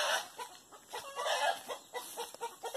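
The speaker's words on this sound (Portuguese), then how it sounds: "Por que essas galinhas tá tudo alvoroçadas?" Chickens on a small rural farm cluck and squawk in an agitated, noisy flurry, with a rooster among them, in repeated bursts close by.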